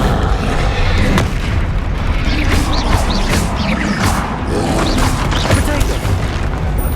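The Confringo fire spell in Hogwarts Legacy bursts repeatedly in loud booming blasts and crashes, layered over a dense, continuous roar of battle noise with no pauses.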